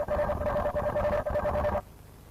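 Robot dogs in a swarm signal one another with rapid, evenly pulsed electronic beeps on one steady pitch, loud and close, stopping abruptly after about two seconds.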